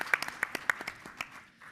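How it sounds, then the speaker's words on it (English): Scattered hand claps from an audience at a conference session, a few sharp slaps that thin out quickly into quiet, faint and somewhat distant. "give them a round of applause for setting the stage for many of"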